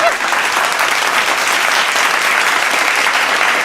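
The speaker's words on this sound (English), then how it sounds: "And a round of applause." A loud, sustained round of applause from an audience at a virtual green jobs symposium, dense even clapping holding steady throughout.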